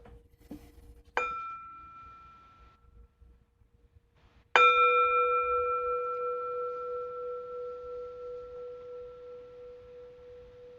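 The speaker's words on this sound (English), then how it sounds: "So I will invite the bell and just guide us through this practice here." A mindfulness bell is struck twice, first lightly and then fully. The second strike rings out clear and close with a pure tone that fades slowly over several seconds in a quiet room.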